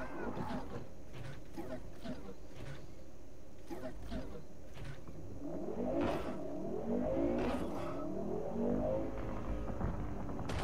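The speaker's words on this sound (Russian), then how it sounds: "Я прям слышу, как эта машина говорит: «Воу! Воу!»" Car engine in the video game Cyberpunk 2077, a steady motor hum with rising revs toward the end, heard beneath ongoing talk.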